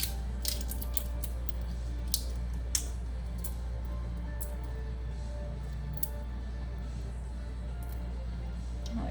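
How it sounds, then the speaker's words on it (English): Dried bay leaf crumpled by hand over a pot of beef bourguignon, giving a series of sharp dry crackles and crisp snaps, close and fairly quiet over a steady low kitchen hum. "and then a crumpled up bay leaf."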